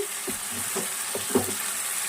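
Capsicum masala curry frying in a pan gives a steady sizzle with a few soft, rhythmic stirring scrapes and one brief louder clink, with nobody talking.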